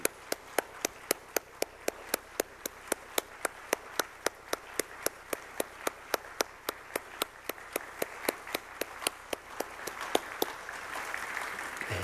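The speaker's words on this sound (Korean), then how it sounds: "뜨거운 박수로 다시 한번 격려해 주시면 감사하겠습니다" A church congregation at a Wednesday missionary-sending service gives rhythmic, evenly spaced clapping, sharp regular claps over a faint wash, continuing steadily before thinning out near the end.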